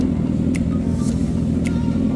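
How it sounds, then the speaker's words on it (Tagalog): Engine of a vehicle left unused for months, idling steadily as it warms up with a loud, continuous low rumble and faint higher hiss, with no voices. "Pinainit lang po yung makina kasi ilang buwan na po siyang di napapatakbo eh."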